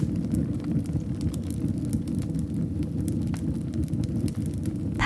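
Wood burning in a fireplace in a snowy Swiss mountain cabin gives a steady low rumble of flames with faint scattered crackles and pops, close and even throughout.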